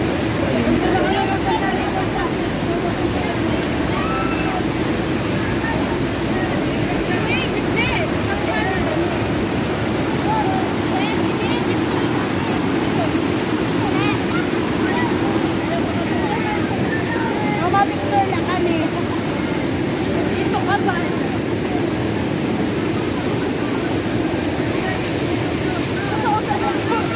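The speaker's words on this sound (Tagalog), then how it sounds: "lakas ng agos ng tubig" Strong, rushing water at Bangon Falls in Eastern Samar pours in a loud, continuous, even roar that lasts throughout, with no pauses and no talk heard over it.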